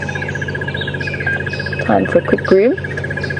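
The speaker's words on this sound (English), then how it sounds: "that bird, that monotonous trilling sound that is coming from somewhere above me" A bird gives a monotonous trilling call from somewhere overhead on a morning safari drive at an African game reserve, repeating steadily and faintly under someone talking nearby.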